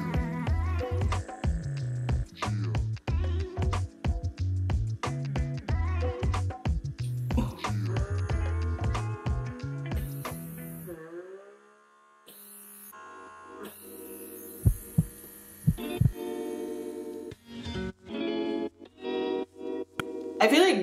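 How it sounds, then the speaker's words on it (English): A small electric pore vacuum buzzes and hums in pulsing bursts, then cuts out and restarts with clicks, fairly close and steady between pauses. "So I'm gonna try the pore vacuum."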